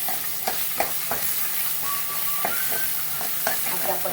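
Ambadi (roselle) leaves drop into a hot tempering with coriander, giving a steady close sizzle with scattered stirring clinks and scrapes; no talk.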